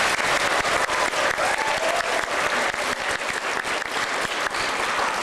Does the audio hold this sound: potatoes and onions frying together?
no